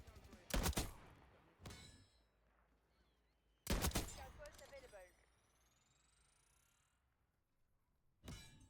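Sniper rifle shots from an Archangel in a Call of Duty match, several sharp loud cracks spaced a second or two apart with echoing tails, one more at the end, and faint game noise between them.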